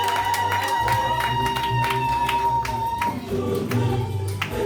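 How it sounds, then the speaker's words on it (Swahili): Applause from a crowd at a church parish feast-day celebration with a choir, sustained clapping with some cheering over a steady low hum and a music tone, loud throughout. "Hiyo makofi mengi sana."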